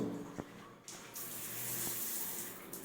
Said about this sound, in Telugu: హ్యాండ్ షవర్ కూడా వదిలి చూద్దాం.